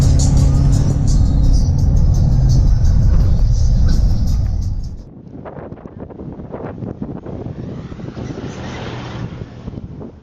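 A tour bus rolls along a road in Grenada, heard from inside as a loud, steady low rumble with wind noise that suddenly drops to a quieter, rattling cabin drone with faint ticks and bumps.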